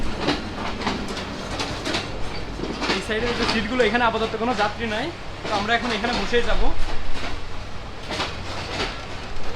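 A Nakshikantha commuter train runs from Khulna to Dhaka; the rattle and rumble of the carriage continue steadily from a seat near the front by the locomotive, under a man's running speech.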